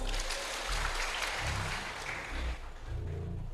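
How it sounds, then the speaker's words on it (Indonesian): Applause from a church congregation during a lively sermon, a steady broadband wash of clapping that holds for a few seconds, with faint voices murmuring underneath. "Tepuk tangan."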